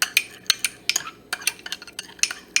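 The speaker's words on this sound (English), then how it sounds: "let me mix these two together first" A spoon stirs a small coconut oil mixture for a face mask in a bowl, producing quick rhythmic clinks and scrapes about three or four times a second, close and clear with no talk.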